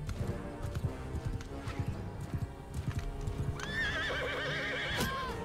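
A horse in the Mount & Blade II Bannerlord video game gallops with steady, close hoofbeats, then gives a loud, drawn-out neigh near the end, with game ambience underneath.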